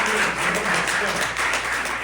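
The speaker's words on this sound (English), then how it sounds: "another round of applause for Lake." A crowd applauds steadily for Lake, a dense wash of clapping with no breaks that holds at an even level throughout.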